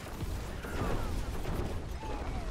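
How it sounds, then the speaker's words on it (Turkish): An explosion in a video game, a dense burst of crashing, crackling noise that fills the short stretch at a steady level, with no voices. "Bu böyle bir patlama oluyor ya."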